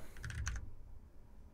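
Typing on a computer keyboard, a short quick burst of a handful of clicky keystrokes followed by quiet room tone.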